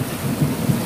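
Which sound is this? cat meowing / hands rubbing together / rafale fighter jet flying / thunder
thunder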